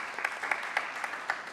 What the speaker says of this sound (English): A huge round of applause once again for him, please.